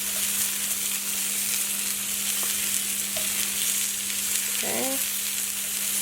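Onion and chicken sizzle and fry together in a single pan, a steady broadband crackle running throughout with a low hum beneath, a few small clinks of stirring, and one brief spoken word near the end.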